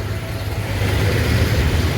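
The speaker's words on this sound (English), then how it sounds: "And the traffic starting to build up too" Busy street traffic in the old city of Chiang Mai, northern Thailand, a steady loud wash of car and motorbike engines with revving, close by and continuous, with no voices.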